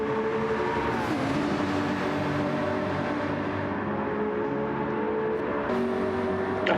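A McLaren and a Porsche GT3 race car scream past close by in a sim race, engines whining loud and high with shifting pitch as they accelerate and pass.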